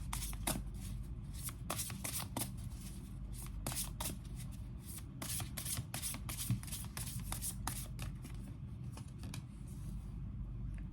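Tarot cards shuffled steadily by hand, a dense run of crisp riffling flicks and snaps repeating over a low room rumble, close and continuous throughout with no talking.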